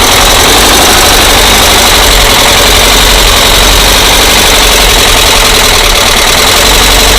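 A VW air-cooled flat-four rebuilt from 1600 to 1700 cc idles loud and close, a steady unbroken rumble with even rhythmic pulsing and no voices.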